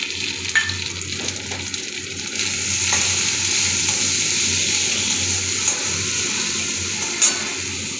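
Potatoes and green chilies fry in hot oil with nigella seeds, salt, turmeric and chili powder for a milk-based fish curry, a steady loud sizzle with occasional stirring scrapes and no voices.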